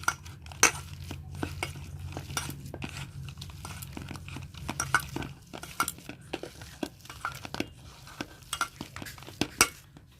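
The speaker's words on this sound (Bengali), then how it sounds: "এবার সব কিছুকে ভালো করে মাখিয়ে নেব।" Raw banana is mixed with salt, turmeric and a little gram flour, giving a close run of wet, irregular stirring and squelching knocks and clicks against a bowl, with a low steady hum in the first half.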